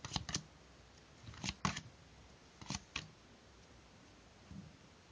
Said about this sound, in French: je vais étaler des cartes